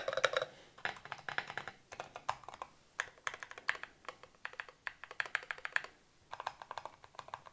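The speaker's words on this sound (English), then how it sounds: "So the spacebar is way more muted." Rapid typing on a custom mechanical keyboard with lubed switches and a muted spacebar, a steady run of close, crisp keystroke clicks in bursts with brief pauses, no talking.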